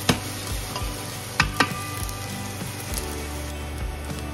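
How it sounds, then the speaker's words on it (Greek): Chopped onion frying in olive oil in a pan, a continuous loud sizzle with a few sharp clicks and scrapes as it is stirred, no voices. "ρίξτε το ελαιόλαδο και το κρεμμύδι. Τηγανίζουμε, ανακατεύοντας συχνά μέχρι να μαλακώσει λίγο το κρεμμύδι"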